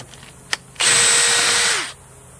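A power driver backs out a T27 Torx screw on a Stihl 028 Woodboss chainsaw: one brief, loud, close whirring burst of about a second, preceded by a small tap, with no talking.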